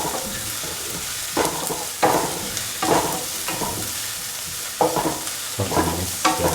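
Onions, red chili, garlic and shallots are sautéed for a mushroom and ash gourd stew, with a constant near sizzle and repeated spatula scrapes and stirs landing every second or so, no voices.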